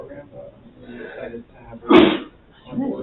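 A single sharp sneeze bursts out loudly in the middle of a board meeting, set between stretches of ongoing speech from a person talking.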